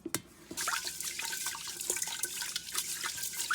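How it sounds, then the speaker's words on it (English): Rice being rinsed with running water in a pot: a close, steady splashing and swishing of water with small drips and clinks, loud and continuous after a brief start. "I'm going to rinse the rice in the pot."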